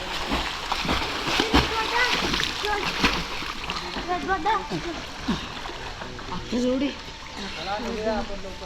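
Village children swim in Kondasar's lake near Rajapur, their splashes and sloshing water churning continuously and fairly close, mixed with shouts and someone talking over the noise.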